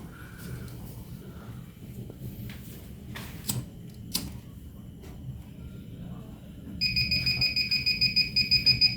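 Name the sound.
flame sensor alarm buzzer sounding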